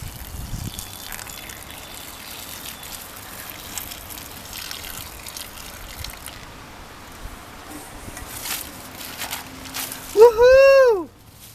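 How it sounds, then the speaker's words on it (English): Boiling water splashes over something frozen in place, a brief loud gush near the end after quiet, faint outdoor background. "I'm going to see if boiling water will unfreeze this."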